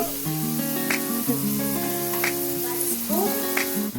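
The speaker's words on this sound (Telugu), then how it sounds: "పచ్చిమిర్చి కరివేపాకు ఫ్రై చేసుకోవాలి దీంట్లో కొద్దిగా పసుపు వేసుకోవాలి" Green chillies and curry leaves frying in a pan give a steady, close sizzle that runs through the whole stretch beneath melodic background music.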